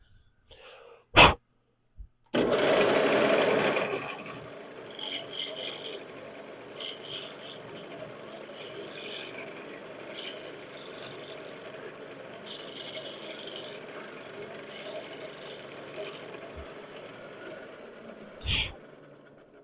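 A spindle gouge cuts wood turning on a lathe, a steady close rasping scrape with repeated bright bursts as the tool is pushed in and eased off, after a couple of sharp knocks at the start.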